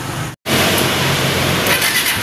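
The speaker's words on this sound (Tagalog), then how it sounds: "Tapos diretso na warm up tayo ng makina ng motor." Rusi Macho TC150 motorcycle engine warming up, a loud steady idle that cuts out briefly and then resumes as a constant running drone, with no voices.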